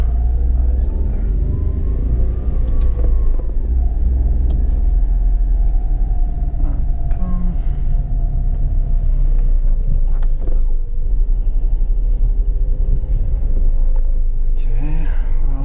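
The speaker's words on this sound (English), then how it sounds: "if you wanted to see how the car behaves in a parking lot, you have it" A 1990 Honda Acty Street G van with manual gearbox drives slowly through a parking lot, a steady low engine rumble throughout with faint clicks and thumps; people talk over it.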